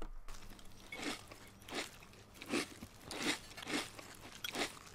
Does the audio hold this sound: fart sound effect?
no